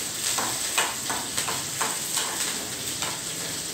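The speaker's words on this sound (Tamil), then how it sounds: "கடுகு பருப்பு, பச்சை மிளகாய், கொஞ்சோண்டு இஞ்சி, வெங்காயம், பச்சை மிளகாய் எல்லாத்தையும் என்ன பண்ணணும், நல்லா வதக்கணும்" Mustard seeds, dal, green chilli, ginger and onion sautéing in a pan: a steady close sizzle punctuated by repeated scraping stirs, no voices.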